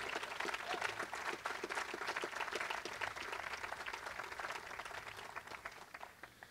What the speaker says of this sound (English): let's clap loud enough for him to hear us